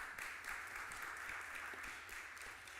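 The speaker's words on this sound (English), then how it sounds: "Give her a round of applause." Audience applause fills the room after a speaker at a domestic violence awareness event, a steady, fairly faint wash of clapping that holds evenly throughout without rising or fading.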